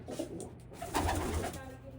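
A pigeon coos softly a couple of times, close by, against a faint background hum.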